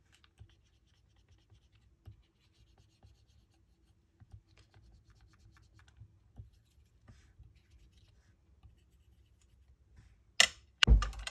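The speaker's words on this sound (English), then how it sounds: "you just rub it on here, and I'll make the petals cup." A small ball-ended tool rubs over die-cut paper crocus petals to cup them: faint, intermittent soft scratching and light taps in a quiet room, ending in a brief, much louder rustle.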